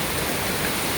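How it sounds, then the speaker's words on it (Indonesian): Heavy rain pours steadily in Hong Kong, a dense, even hiss of downpour that stays loud and unbroken from start to finish with no voices over it. "Masya Allah ya, hujannya sangat deras."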